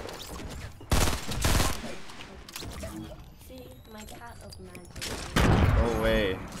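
Rapid bursts of gunfire crackle in Fortnite, with loud volleys near the start and end and scattered shots between, while a player talks over the action.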